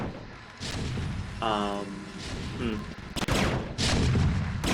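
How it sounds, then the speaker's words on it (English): In the StarCraft Brood War video game, wraiths attack zealots with rapid laser bursts and booming impacts. A voice speaks in a tonal, musical way over the dense game combat. "I'm killing them with the wraith."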